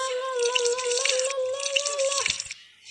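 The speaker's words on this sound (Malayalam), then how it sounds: "സിൻചാന് പാത്രം കഴുകുന്ന ജോലിയായി." Water runs and drips while dishes are washed in a Shinchan video game, a bright trickle with a ringing tone and small clicks before it fades out.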